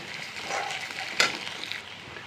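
Potatoes cut into long strips frying with onion and garlic in a wok, a soft steady sizzle with one sharp scrape of a utensil midway, no talking.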